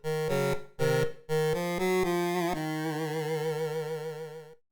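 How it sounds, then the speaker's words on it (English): Short composed video game death theme: a few staccato synth chords, then a held, wavering tone that fades out, played alone without voices. "Up now we have the death theme. The theme itself sounds like this."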